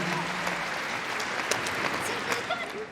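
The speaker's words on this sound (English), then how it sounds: "give them a round of applause as they come up the finishing line" Spectators applaud at a Kennel Club British Open dog agility final as a team crosses the finishing line, a steady close crowd clapping with a few sharper claps and faint voices mixed in.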